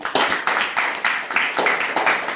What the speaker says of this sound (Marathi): आपण जोरदार टाळ्या देऊयात